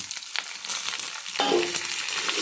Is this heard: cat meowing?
no